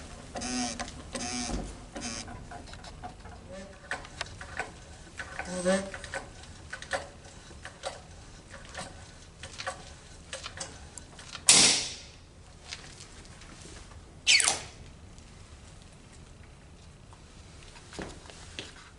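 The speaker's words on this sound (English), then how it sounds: "you'll advance the chisel by stroking the handle on the pump" A Snap-on AutoSPLITTER hydraulic nut splitter has its pump handle stroked, giving repeated soft creaks and clicks at close range with two sharper metallic bursts partway through and faint background sounds.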